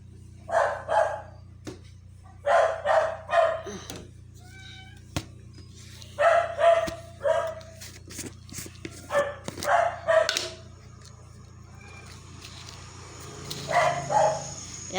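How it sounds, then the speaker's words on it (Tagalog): A dog barks in short clustered bursts, several yaps at a time with pauses between, fairly close, with a low steady hum underneath. "ang ingay ni Doggy ah"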